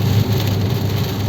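Heavy rain drums on a moving car in Portugal while driving, a loud, dense, continuous patter close around the cabin, with no voices.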